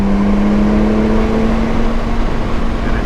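A Porsche 911 Turbo in Sport Plus mode drives along with a steady, loud engine drone and a constant low hum, no talking, the tone holding even throughout with slight road roar beneath.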